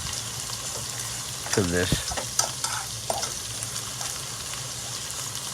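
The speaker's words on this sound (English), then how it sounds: "we're gonna add about maybe a fourth of a cup of water" About a quarter cup of water goes into a hot pan of sausage, gravy and onions. It hisses and bubbles against steady frying sizzle, and a voice says a couple of words.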